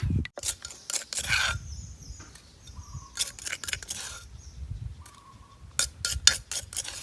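Ground eggshell is scooped into a container: dry scraping and crisp clicking scrapes come in irregular bursts, close and fairly quiet, with brief pauses between strokes.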